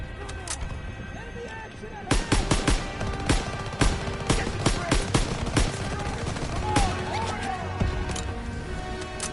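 Bursts of machine gun fire and scattered gunshots in a World War II combat scene from Call of Duty: WWII, loud and dense, starting after a quieter opening, with shouted voices mixed in.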